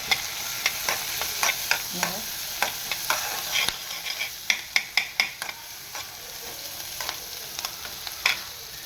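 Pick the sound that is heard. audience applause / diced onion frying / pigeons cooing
diced onion frying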